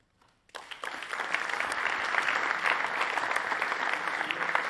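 A room full of people bursts into hearty applause for the host team at a welcome event, the clapping starting abruptly after a brief quiet moment and holding steady and dense throughout.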